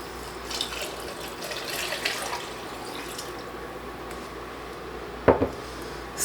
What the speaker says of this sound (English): Next, just add your beef stock.